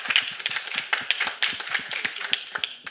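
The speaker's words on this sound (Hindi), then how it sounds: "एक बार तालियां इस चीज के लिए." Crowd clapping at a Bollywood song launch event, dense overlapping claps with a few sharper hand smacks standing out, steady and fairly loud for three seconds with no talking.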